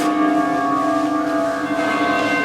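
A bell rings in a bell museum, sounding a steady, loud, sustained tone with layered humming overtones and no talking throughout.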